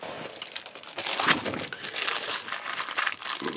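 A resealable plastic bag of parts from a 1/35 German 88mm Flak 36 model kit crinkles and rustles close by, with steady handling crackles throughout and no talking.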